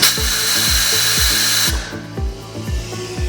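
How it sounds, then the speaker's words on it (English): CNC machine spindle releasing its tool from the collet chuck: a loud, close pneumatic hiss that cuts off partway through, over a rapid train of rhythmic mechanical thumps that continue after it stops. "The first is pressing the tool release button on the spindle housing."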